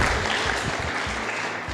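An audience at a tourism talk breaks into loud, dense applause, a short burst of steady clapping heard close.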